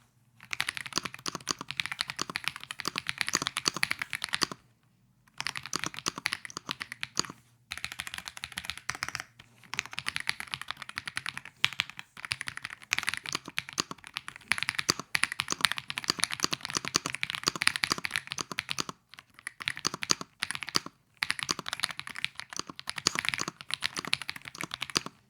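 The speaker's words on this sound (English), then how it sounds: "And here's what it sounds like when I'm typing." Typing on an AJAZZ AK980 mechanical keyboard gives dense, rapid key clacks in continuous bursts, broken by a few short pauses, close and fairly quiet, with no speech.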